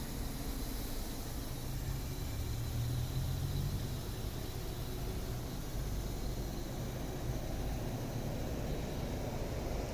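A 2009 Mazda 6 with a 2.0 petrol engine idling with a low, steady hum, faint and unchanging throughout, with no voices.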